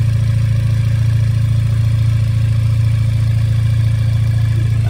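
An Audi engine fitted with a cheap hand-made downpipe exhaust runs at a steady idle, giving a continuous deep, even hum with no change in pitch throughout.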